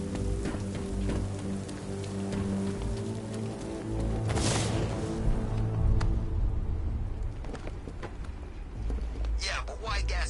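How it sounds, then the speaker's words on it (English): Rain hisses steadily across a city in the Batman Arkham Knight video game, a continuous wash over low droning game sounds and brief louder effects, with no clear speech. "What's with all the rain?"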